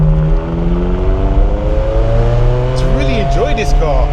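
Ferrari 360 Modena engine on a country lane, a steady sustained drone with rising revs and a sharper blip of throttle near the end, close and loud.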